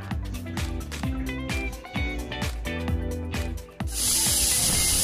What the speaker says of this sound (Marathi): तीन शिट्ट्या घ्यायच्या आहेत।